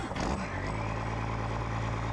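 A TLX 3500 milk truck in Farming Simulator 22, with a Cummins-like diesel engine sound, holds a steady, loud, low idle that runs throughout.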